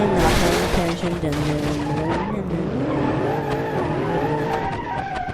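In BeamNG.drive, a car skids with sustained, wavering tire squeal and engine whine, loud and continuous throughout, with a sharp impact near the start as it hits a wall.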